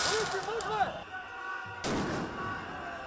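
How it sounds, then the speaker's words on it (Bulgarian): Firecracker bombs thrown at a police cordon during a street protest outside a parliament building burst sharply, one loud blast early and another near the middle, over crowd noise and shouting. "Към полицейския кордон до Народното събрание полетяха яйца и бомбички."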